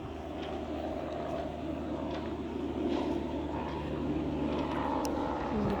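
A helicopter flies over the Normandy American Cemetery, its rotor and engine producing a continuous low rumble at a moderate distance, steady throughout with faint background noise.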